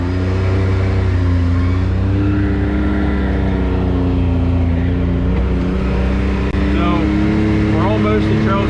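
A Can-Am X3 side-by-side pulling off onto a trail at Windrock, a loud, steady engine drone with rising revs near the end, and a voice speaking over it.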